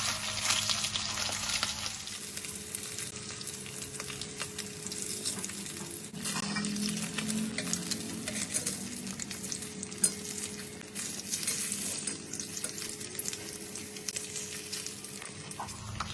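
Steady loud sizzling of beef frying in a little hot oil, with occasional stirring and light clinks of a utensil against the pan.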